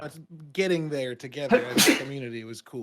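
A sharp sneeze bursts out in the middle of ongoing conversation, loud and close, with people talking before and after it.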